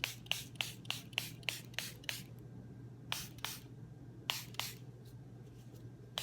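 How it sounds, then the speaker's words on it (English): A spray bottle mists fabric during primitive-style fabric dyeing, firing a dozen or so short, crisp squirts in quick clusters with brief pauses between them, close and fairly quiet. "a little bit of spray again"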